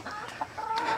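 Free-ranging farm chickens clucking close by in a short burst of soft, rapid clucks, heard alone without talk.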